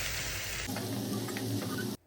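Mustard seeds, urad dal, chana dal and dried chillies sizzle in hot oil for a South Indian tempering, a loud close hiss with light popping that stops abruptly after about two seconds.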